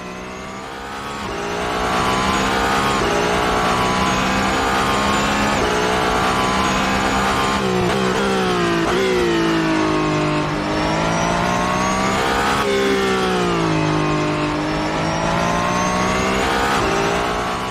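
A hypercar engine screams through sustained high revs while racing in the Assetto Corsa video game, loud and continuous, with rising and falling pitch across gear changes and no voices over it.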